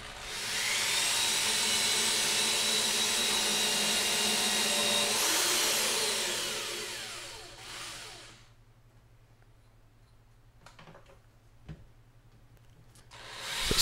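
A power driver runs steadily as screws are sunk into a home-built ITG2 replica dance pad, a loud whine lasting about seven seconds before it winds down and stops, followed by quiet with a few faint clicks and knocks.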